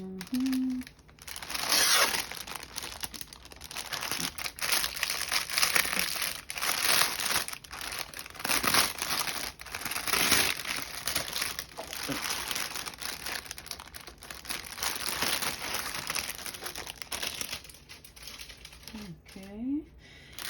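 A cross-stitch kit's plastic package is torn open and handled, giving a long run of close crinkling and rustling, with a brief voice at the start and another near the end.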